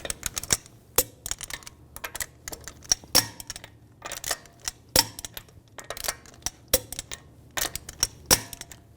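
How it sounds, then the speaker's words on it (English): Sharp torque wrench clicks while tightening lug bolts to 98 foot-pounds in a cross pattern on a 2006-2010 BMW 550i front wheel, a run of crisp irregular clicks, some in quick pairs, close-up over a faint low hum. "Now we're going to torque the lug bolts to 98 foot-pounds in a cross pattern"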